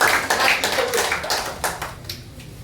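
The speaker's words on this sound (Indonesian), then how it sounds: "Yang percaya berikan tepuk tangan bagi Tuhan." A church congregation claps hands together during a service, a loud, fairly brisk burst of clapping that gradually thins and fades out over a few seconds.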